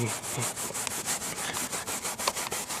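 Leather conditioner rubbed by hand into a car seat, a rapid rhythmic back-and-forth swishing friction, close and steady, about six strokes per second, with no speech.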